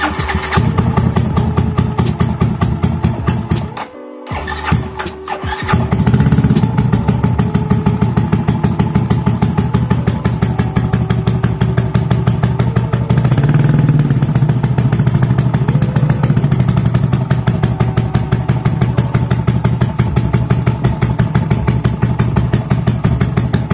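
A Yamaha NMAX 180cc scooter fitted with a CLD C3 exhaust idles close by in a steady, throbbing loop, with a short dip partway through before the engine settles back into a fuller, even idle for the rest.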